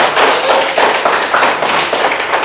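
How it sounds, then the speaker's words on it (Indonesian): Schoolchildren in an Indonesian classroom give a group a round of applause, a dense, loud patter of many small hands clapping close by. "sekarang kita beri tepuk tangan untuk kelompok 3 yang sudah mempresentasikan pekerjaan mereka"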